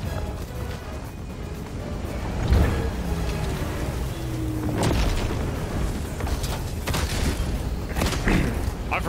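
Autocannon firing in Helldivers, a few heavy booming thumps spaced out over several seconds amid busy battle noise and mechanical clanks, with some talk mixed in.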